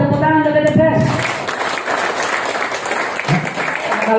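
Audience applause at a seminar on getting rich, a dense steady patter of many hands clapping close by, with a voice speaking over the start.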